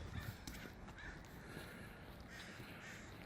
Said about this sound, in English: Looks like the crows are out this morning.